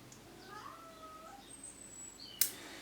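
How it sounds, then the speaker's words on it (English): A cat meows quietly indoors, a few drawn-out, wavering calls over a faint background, ending with a sudden sharp knock. "There's my cat having a chat."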